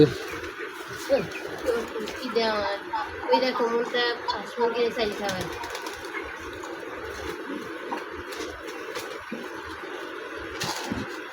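Pigeons coo in soft, repeated throaty calls, mixed with people talking close by and some background clatter.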